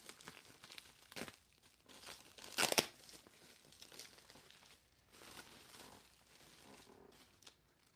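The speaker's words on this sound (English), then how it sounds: "We got some taped bubble wrap, which is fine." Taped bubble wrap being pulled off a vinyl record package, with crinkling and tearing bursts throughout and one loud, sharp rip near the middle, close to the microphone.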